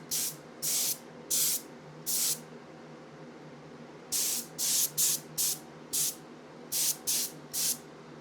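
Short bursts of hissing spray paint on a scale aircraft model, four spaced puffs and then a quicker run of shorter sprays, close by over a low steady hum.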